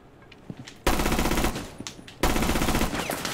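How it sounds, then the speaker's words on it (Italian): Automatic gunfire in a shooter video game, two long bursts of rapid, loud close-range shots with short pauses between them. "Ho sparato a casissimo, raga."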